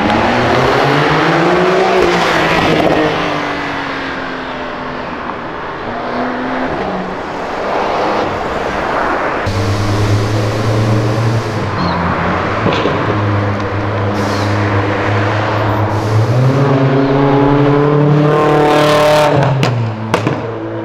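A heavily modified Mitsubishi Lancer at a fuel station revs hard and loud nearby, its engine note climbing and dropping in repeated bursts, with a brief lull before more aggressive revving.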